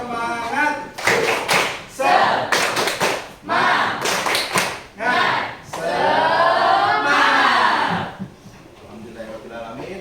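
A school class claps a rhythmic cheer in a classroom, loud bursts of clapping in quick patterned groups, with children's voices chanting and calling out between and over the claps.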